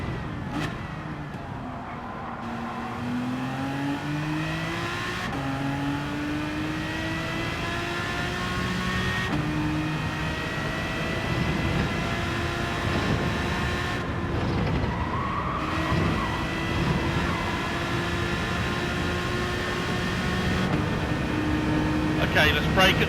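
Racing car with a worn-out front left tyre, a steady engine drone with shifting pitch as it accelerates and brakes, tyre squeal mixed under the engine noise for a long stretch.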